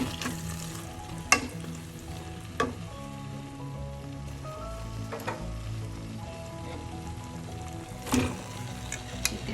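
Fried chicken stirred into garlic sauce in a pan sizzles steadily and quietly, with a few sharp scrapes and clinks from stirring. No one talks.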